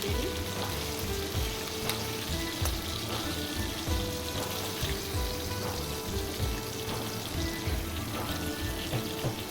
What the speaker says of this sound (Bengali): আমি আগে চিংড়ি মাছ যে ভেজে তুলে রেখে দিয়েছি